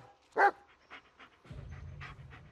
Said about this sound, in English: This is Bullet, your right-hand dog.